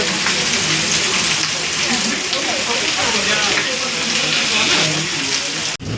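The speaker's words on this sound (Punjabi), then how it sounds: "ਮੀਂਹ ਬਹੁਤ ਤੇਜ਼ ਆ ਗਿਆ" Heavy rain pours steadily and loudly, a dense unbroken hiss of drops striking surfaces outside a university, cutting off abruptly at the very end.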